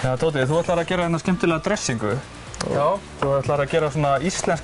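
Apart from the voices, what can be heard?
No distinct noise like a dog, phone or traffic.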